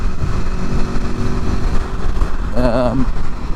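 A 2021 Aprilia Tuono Factory motorcycle engine runs steadily at close range, a low continuous drone with a voice rising over it near the end.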